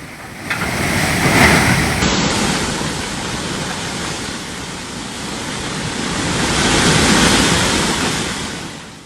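A swollen mountain river in Sikkim rushes after heavy rain, a loud, close, continuous roar of turbulent water that swells and eases in broad surges.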